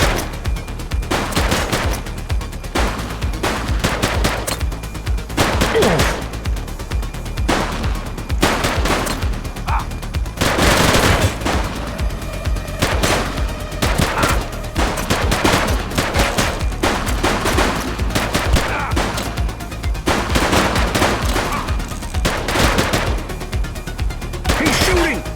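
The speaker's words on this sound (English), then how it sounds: "He's shooting!" Gunfire in a police shootout in The Precinct video game, dense rapid bursts of shots and cracks continuing throughout, with voices shouting amid the firing.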